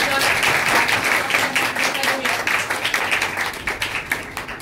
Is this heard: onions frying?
no